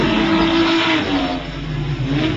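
A battered Group A touring car, damaged after glancing a guardrail, accelerates hard down the straight at the 1987 Wellington 500 street race, its engine roaring loud and continuous throughout.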